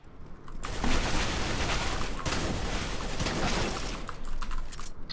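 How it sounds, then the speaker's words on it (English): A decoy grenade in CS:GO fires off a dense, continuous crackle of fake gunfire for several seconds, loud and close, with no talk over it. "I almost died to my own fucking decoy explosion"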